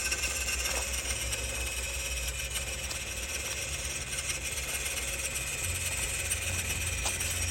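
A small rock crawler's motor runs steadily and fairly loud in an even drone with faint rattles, no talk over it.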